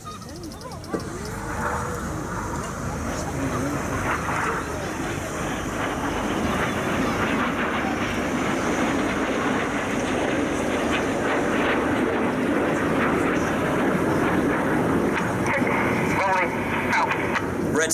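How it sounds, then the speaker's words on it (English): Red Arrows jets flying the corkscrew manoeuvre at an Armed Forces Day air display, a loud, building jet engine roar sustained throughout, mixed with crowd noise and a commentator talking over it. "flying his jet only 8 feet away from Red 6 and doing it while he's upside down"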